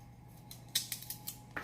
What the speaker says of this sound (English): So I'll also dice these carrots very thinly so that they cook fast.